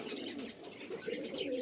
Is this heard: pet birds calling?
yes